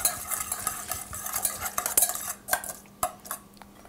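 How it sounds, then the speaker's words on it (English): Bacon vinaigrette with crumbled bacon pieces whisked briskly in a bowl, a quick steady run of close scraping clicks and taps for a few seconds, with no talking. "And then whisk that."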